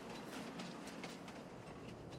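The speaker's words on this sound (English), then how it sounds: "the train does seem to come past very, very often" Train in Farming Simulator 22 rolling past on a forest map, a steady broadband rumble with faint rhythmic clatter of wheels over rails, continuous and fairly close with no talking.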